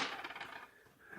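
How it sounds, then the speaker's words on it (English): Five dice rolling for the Space Cadets board game, a faint, brief clattering rattle that rings and fades within about a second. "I'm going to have to go and flip the timer and roll the 5 dice"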